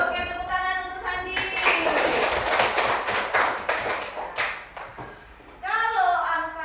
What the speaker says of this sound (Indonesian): tepuk tangan untuk Sandi.